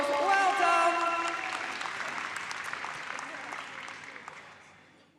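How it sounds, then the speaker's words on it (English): Crowd applause and cheering ring out at a dog show arena for a handler and dog finishing a run, a dense clapping wash that starts loud with a voice over it and gradually fades away. "Here we go, let's cheer them home, give them a big round of applause."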